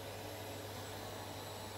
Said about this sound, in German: Also sauge ich da unter dir drunter